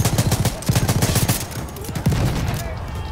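Rapid bursts of gunfire from the video game Battlefield 1 crackle close and loud, with two dense volleys of rattling shots followed by a heavier crack and lingering battle noise.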